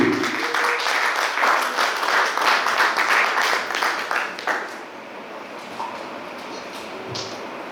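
A church congregation applauds loudly and densely for several seconds, then the clapping thins and fades to scattered claps and room murmur in the second half.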